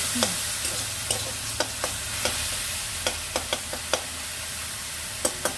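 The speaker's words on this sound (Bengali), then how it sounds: "আজকে ছাতুটা ভাজা করে রেখে দিলাম" Sattu flour fries in oil in a pan with a soft, steady sizzle, and a utensil taps and scrapes the pan now and then as it is stirred.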